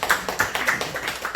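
A church congregation claps together in applause, a quick, steady run of close, bright hand claps with no voices over it.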